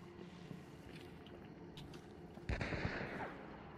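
Gunfire in a video game: a sudden, loud, sharp burst of shots rings out partway through, then lingers as a rumbling echo over low background noise.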